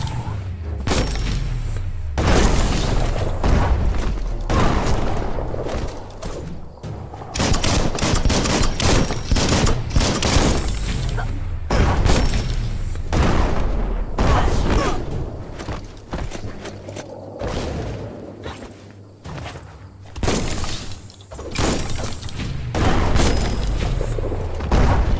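Explosions from a bomb lobber enemy in the video game Biomutant, loud and repeated booms and bursts through busy combat noise, with footsteps and crashes mixed in.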